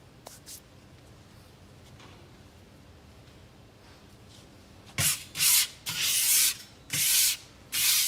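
Paint scraper scraping loose flour off a kitchen surface, a series of five or six loud, harsh rasping strokes in quick rhythm after a few faint earlier scrapes.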